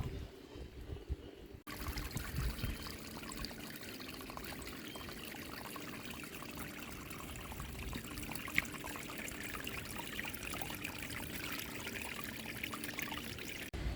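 Rainwater from a garage roof runs into a 25,000-litre water tank, a steady trickling pour that goes on continuously at moderate loudness after a brief quieter start, and no one speaks over it.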